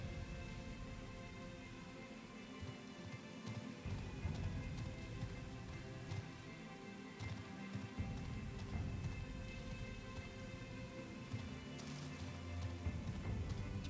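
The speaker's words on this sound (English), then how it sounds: "It's raining." Steady rain hissing down across an outdoor area in the online role-playing game Final Fantasy XIV, a continuous wash of drops with soft low rumbles underneath, even and unbroken for the whole stretch with no voices.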